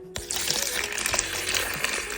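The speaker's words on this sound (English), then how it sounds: "we're going to add 650 grams of warm water" Warm water is poured into a bowl with sourdough starter, a brief bubbling, splashing pour that starts abruptly and continues steadily, close up and fairly quiet with no talk.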